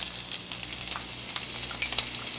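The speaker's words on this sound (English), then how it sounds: "So now we'll add our onions." Onions dropped into hot, aromatic oil in a pan for ragu sauce give a soft, steady sizzle dotted with small crackles and pops, with no talk over it.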